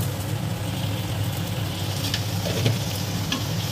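Tomatoes with salt and sugar fry in oil with a steady, dense sizzle, close and continuous, with faint scraping as the mixture is stirred in the pan.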